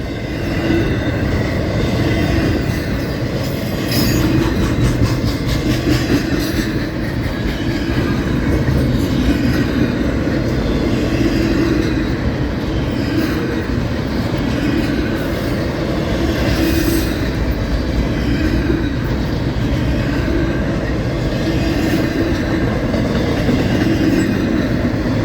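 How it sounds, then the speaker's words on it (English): A long CSX freight train of stacked well cars rolls past at close range in Folkston, a dense continuous roar of wheels and rail clatter with occasional squeals, holding steady throughout. "This is a big train."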